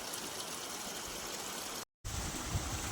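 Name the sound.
muddy water flowing into a farm field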